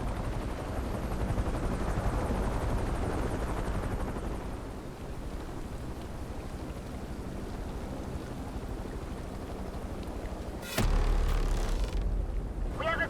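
Police helicopter in the Need for Speed Unbound video game, a continuous rumbling rotor wash that dips slightly midway, then is cut by a sudden louder burst of noise near the end.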